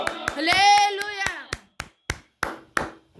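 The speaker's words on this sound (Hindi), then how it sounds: "ताली बजा के परमेश्वर को धन्यवाद देंगे" Church congregation clapping hands to thank God, a run of sharp unison claps, first under a sung or shouted voice, then about five spaced, loud claps ringing alone in a reverberant hall.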